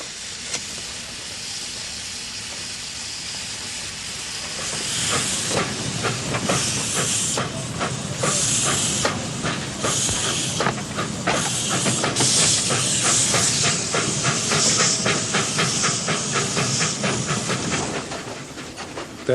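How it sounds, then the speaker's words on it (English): Narrow-gauge steam locomotive in Poland hissing and chuffing, quiet rumble at first, then loud rhythmic puffs and hissing steam building and continuing close by. "this frail little railway, with tracks so old it can't go faster than 20 miles an hour"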